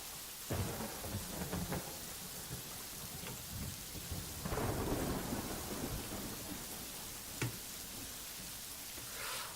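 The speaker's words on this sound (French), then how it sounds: "Oh non, il pleut!" Rain and thunder in the video game Blossom Tales: a steady hiss of rainfall with several sharp cracks and rumbling thunder rolls, fairly faint and without talk.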